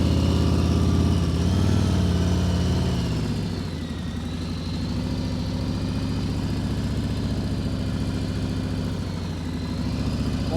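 Motorcycle slowing to a stop using only the front brake, a steady nearby engine hum that drops in pitch as the bike decelerates and then settles into an even idle-like drone with wind noise.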